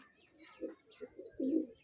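Short, low coos from a male pigeon, two or three soft bursts with the last one fullest, heard up close with a faint chirp above.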